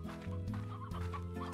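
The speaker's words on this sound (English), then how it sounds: "I'm gonna try to catch a bunch of chickens." Chickens cluck steadily in the video game Slime Rancher, a close, continuous run of clucks and low warbling calls with no talking.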